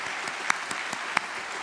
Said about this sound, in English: Shall we give them a good round of applause?